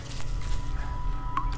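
Water drips and squishes in the horror video game The Screecher, a few soft wet drops over a steady low hum, with a brighter splash near the end and no talking.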